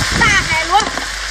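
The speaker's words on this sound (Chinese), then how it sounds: "各种海鲜下锅。" Assorted seafood, including Boston lobster, large sea snail, octopus and mantis shrimp, frying in a hot wok with loud sizzling and stirring, while someone talks over it.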